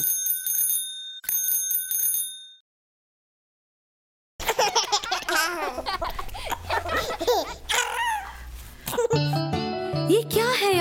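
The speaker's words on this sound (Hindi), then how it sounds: "टन टन टन टन घंटी बजाते लाला जी आए साइकिल चलाते।" A bright bicycle bell rings in two quick bursts in a children's rhyme about a man riding his cycle. A pause follows, then lively music with singing and children's voices.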